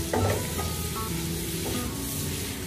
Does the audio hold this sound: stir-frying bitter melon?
yes